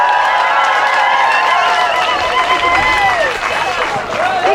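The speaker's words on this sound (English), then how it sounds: "So a big round of applause," Crowd at an outdoor Pride event in Exeter, Devon claps and cheers for Councillor Hughes, a lively, sustained burst of applause with whoops, mixed with voices over a public address.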